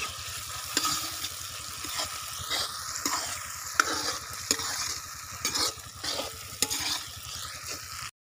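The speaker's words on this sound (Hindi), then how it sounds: "अब इसमें कलेजी डालेंगे और कलेजी को भी भूनेंगे।" Chicken liver frying with spices in a pan, a steady close sizzle broken by repeated stirring scrapes and clacks, rhythmic throughout.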